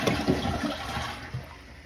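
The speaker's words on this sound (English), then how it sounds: "And let's give it a flush." A household toilet flushing just after its flapper was replaced: a loud, close rushing and swirling of water that trails off into a softer draining and refilling hiss.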